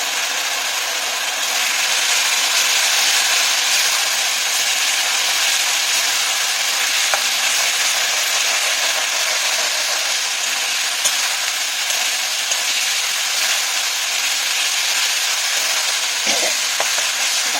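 Spice paste for a Mourala fish curry fries in a pan, a loud, continuous close sizzle with faint scrapes of stirring throughout.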